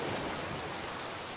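Steady rain falls in the survival video game Raft, a dense continuous hiss of drops with no breaks, even and moderately loud throughout.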